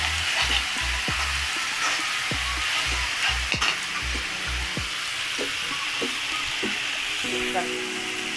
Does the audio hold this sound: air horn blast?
no